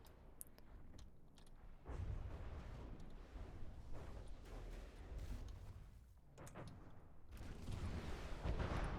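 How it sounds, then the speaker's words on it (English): Missiles and cannons fire in a video game battle, a dense continuous barrage of booms and blasts that swells louder toward the end, with no talk over it. "Oh, lots of missiles, but they seem to be..."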